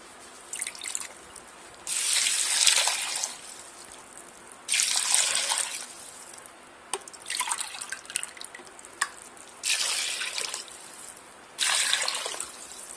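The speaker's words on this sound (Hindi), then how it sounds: "शामिल करते हैं 4 गिलास पानी।" Four glasses of water pour into a pot in several separate bursts, each a splashy rush lasting a second or so, with quiet gaps between.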